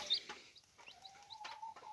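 A black Gurk chicken chick, held in the hand, gives thin, high peeps in short, scattered bursts, faint and close in a quiet room.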